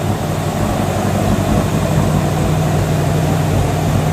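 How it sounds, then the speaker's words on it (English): A 1958 Chevrolet Impala convertible's fuel-injected engine runs nearby with a loud, steady, low rumbling drone. The pitch holds nearly even throughout, with no clear rise from revving and no voices. "Give me a little rev."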